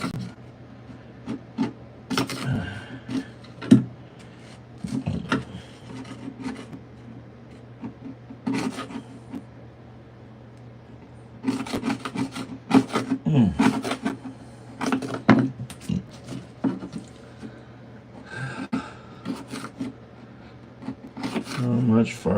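Someone scrapes vinyl plank flooring with the grain during installation. The rasping strokes come in irregular bursts with pauses between them, and quieter talk can be heard now and then underneath.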